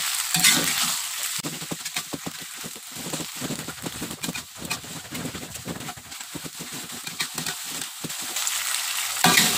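Close, crackling sizzle of beef frying in a pan, with repeated scraping as it is stirred in an uneven rhythm.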